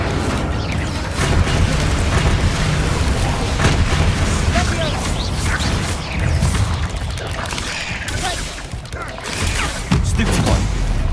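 Incendio fire spell cast in the Hogwarts Legacy video game, a dense roaring burst of booming, crackling blasts sustained over several seconds with a brief dip near the end, under a voice shouting in the game.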